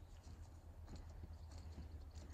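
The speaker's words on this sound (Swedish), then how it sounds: "Det var djuren och så var det hästarna som kom." Faint, quick clip-clopping of video game horses' hooves in an irregular trot, quiet and somewhat distant over a low steady hum.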